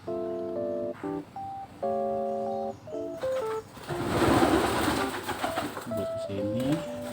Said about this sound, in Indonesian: Burung terus banget.